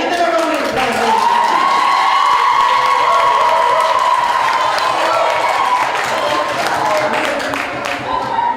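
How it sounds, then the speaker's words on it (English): An audience at a college debate competition applauds and cheers for the debate teams taking the stage, a loud sustained wash of clapping and whoops. "All right, give them a round of applause."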